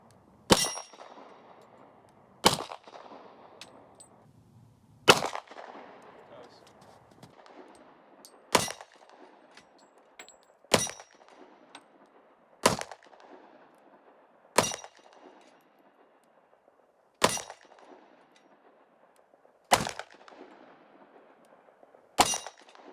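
Smith & Wesson M&P 2.0 Compact pistol firing about ten single shots, sharp and loud, evenly spaced a couple of seconds apart, each followed by a short ringing echo.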